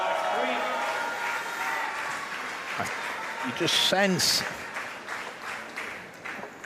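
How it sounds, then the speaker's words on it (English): A coach claps courtside at a wheelchair para table tennis doubles gold medal match, the applause coming under a commentator's talk. "The Slovakian coach there clapping because he knows it was the right thing to do"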